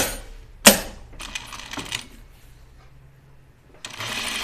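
A sewing machine stitches a dress in short, close bursts of rapid mechanical whirring, opened by a sharp click and separated by quiet pauses.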